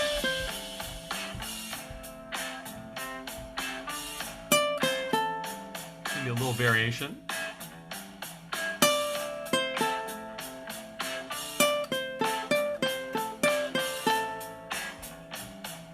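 A simple three-note ukulele solo played over a backing track, plucked notes ringing out in a steady rhythmic groove with the accompaniment, while a voice speaks briefly over the playing.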